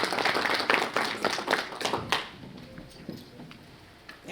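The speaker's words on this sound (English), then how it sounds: "Can we clap hands for her?" An audience claps for a company CEO at an ESG and sustainability conference in Zimbabwe: scattered, fairly soft applause that fades out after about two seconds into quiet room noise.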